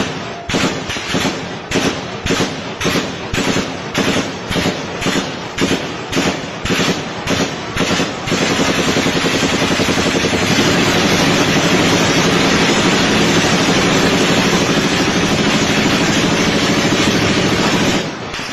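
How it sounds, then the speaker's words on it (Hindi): Gunfire cracks loud and close in a rapid, regular string of shots, then gives way to a continuous chaotic roar of noise. "अंदर आपको बाकायदा गोली चलने की आवाज़ सुनाई देगी"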